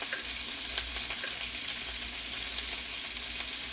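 Garlic and spinach sauteing in a pan, a steady soft sizzle and crackle of frying with faint stirring, continuous and fairly quiet, no voices.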